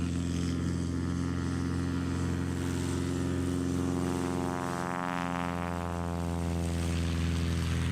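Light aircraft engines warm up at a STOL competition in Jennings, Louisiana, including a 1953 Cessna 180 with an MT propeller, a loud, steady propeller drone that swells slightly midway and holds without talking.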